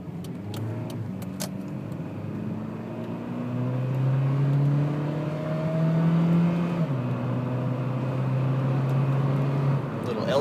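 A 2007 Honda Fit Sport with its L15 engine pulls away from a stop on a cold day, the engine note rising steadily through the gears, loud and close from inside the car with a brief shift dip midway.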